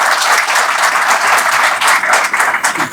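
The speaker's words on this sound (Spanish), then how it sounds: "Así que démosle un aplauso y recibámoslo con beneplácito." Audience applause at a Spanish-language book launch for a volume of Dominican philosophical writings, a dense steady wash of many hands clapping that fills the whole stretch at even loudness with no talk over it.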